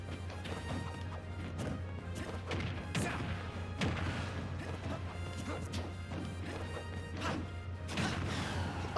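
Attack hits in a Super Smash Bros match, repeated sharp smashing and whacking impacts landing in quick irregular succession among game effects and crowd-like noise, with a voice talking faintly underneath.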